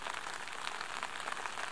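Steady rain patters on surfaces during a thunderstorm in Karelia, a dense even hiss with no voices.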